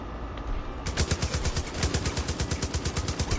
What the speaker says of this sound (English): They're shooting heavy, but they can't make shots!